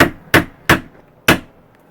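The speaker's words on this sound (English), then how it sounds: "So you want to put that one right at the top of the thing, and you want to just hammer it down." A hammer drives a small nail into a wooden board for string art, four sharp separate knocks at irregular intervals, each ringing out briefly, close up and alone.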